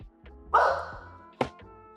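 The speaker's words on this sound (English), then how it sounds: "Stop barking." A dog barks twice nearby indoors, a longer loud bark followed by a short sharp one, with quiet thumps between.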